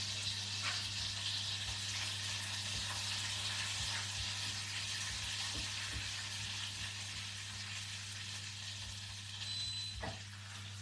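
Butter melting in a pan while cooking spice-bread biscuits, giving a steady soft sizzle and faint crackle throughout, close and even, with no talking.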